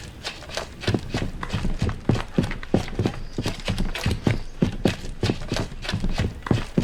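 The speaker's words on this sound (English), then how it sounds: "walking on wood" Footsteps on wood from the Wisplight video game, a skeleton walking with hollow, knocking steps in a quick, steady rhythm, loud and close.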